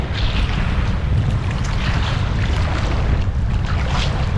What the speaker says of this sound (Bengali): সমুদ্রের গর্জনটাই আমরা শুনতে পাচ্ছি।